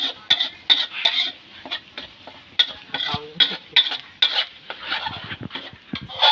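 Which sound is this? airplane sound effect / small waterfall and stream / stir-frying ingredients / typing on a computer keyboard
stir-frying ingredients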